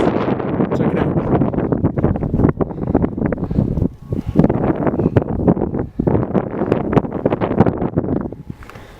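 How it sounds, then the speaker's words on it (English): Strong wind buffets the microphone at the summit of Pikes Peak, a loud, continuous roar with rapid gusty fluctuations and brief lulls, with no talking. "It is really windy up here"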